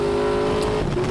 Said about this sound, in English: Rustang and his Mustang having a red hot crack behind him.